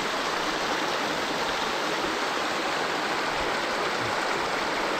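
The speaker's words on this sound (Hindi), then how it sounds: "अभी हम इस नेचुरल वाटर सोर्स के पास पहुंच गए" A mountain stream rushes at a natural water source near an abandoned Gaddi tribe village in India, a loud, steady broadband roar of flowing water with no voices.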